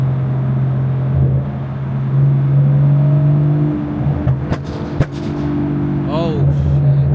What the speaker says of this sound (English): Once we get on this highway, I'm gonna give it one good pull.